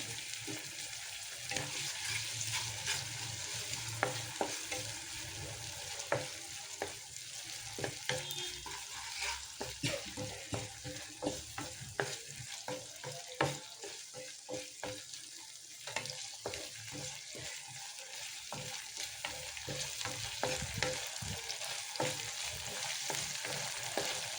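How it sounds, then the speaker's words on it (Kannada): Chicken pan roast frying in a pan with soy sauce and tomato sauce, giving a steady loud sizzle with frequent scraping stirs throughout and no talk. "ಇದು ಫ್ರೈ ಆಗ್ತಾ ಇದ್ದ ಹಾಗೆ ಇದಕ್ಕೆ 1 ಟೇಬಲ್ ಸ್ಪೂನ್ ಆಗುವಷ್ಟು ಸೋಯಾ ಸಾಸು ಮತ್ತು 1 ಟೇಬಲ್ ಸ್ಪೂನು ಟೊಮೆಟೊ ಸಾಸನ್ನು ಹಾಕ್ಕೊಳ್ತಾ ಇದ್ದೇನೆ"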